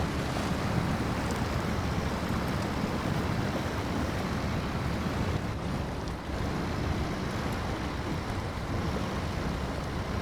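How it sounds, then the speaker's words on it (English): In the trucking video game SnowRunner, water rushes and washes around a Navistar truck as a continuous, dense, loud roar with no breaks. "Water in this game is very, very good."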